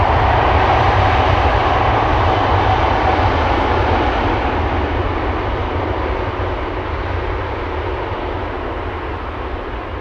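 Airbus A350 jet engines at Amsterdam Schiphol Airport give a loud, continuous roar that stays strong and eases only slightly as the jet moves off, with no voices.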